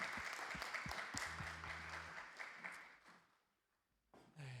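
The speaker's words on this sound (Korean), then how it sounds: "우리 주님께 영광의 박수 올려드리겠습니다." A church congregation at an air force base chapel service applauds together after a prayer, a broad wash of clapping that swells, then thins and fades out, with a few scattered claps returning near the end.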